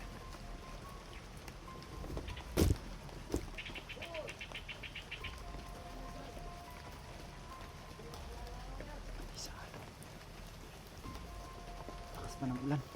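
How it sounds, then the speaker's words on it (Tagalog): Heavy rain pours steadily over an outdoor area as a constant hiss. A faint chirping bird and scattered knocks and splashes sit within it, and low voices murmur quietly under the downpour. "Lakas pa ng ulan."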